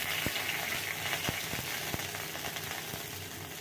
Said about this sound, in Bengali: এর মধ্যে তেল গরম হয়ে গেছে, গোটা জিরে দিয়ে দিলাম, হয়ে গেছে একটা তেজপাতা দিয়ে দেবো